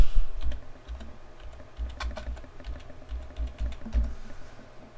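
Quick bursts of typing on a computer keyboard, irregular clusters of light clicking keystrokes close up over a faint background hum.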